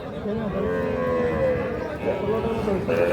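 Young bull calves at a cattle market moo loudly and close by, drawn-out calls running almost continuously over a busy background of people and livestock.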